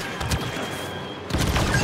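Green blaster fire from a Star Wars Battlefront 2 battle on Tatooine at night, heard as a dense, steady barrage of layered laser shots, with a louder burst near the end and no talk.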